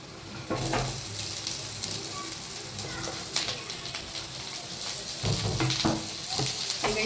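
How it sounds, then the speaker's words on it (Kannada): Chopped onions sizzle loudly as they fry in hot oil in a pan for Avrekal sambar, a steady crackling hiss with occasional stirring clatters, close by and continuous. "ಇವಾಗ ಆನಿಯನ್ಸ್ ಆ್ಯಡ್ ಮಾಡ್ತೀನಿ"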